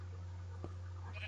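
A Minecraft sheep gives a single short bleat over a steady low game hum, faint and brief, with no talking.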